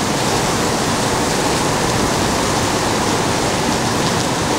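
Steady rain pours down in a dense, unbroken hiss that holds loud and even throughout, with no voices or other distinct sounds standing out.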